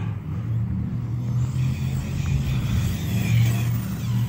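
An Arrma Fireteam 6S RC car speeds across a parking lot, its electric motor giving a steady droning whine with a low rumble. The sound stays close and loud throughout, with slight rises as it accelerates.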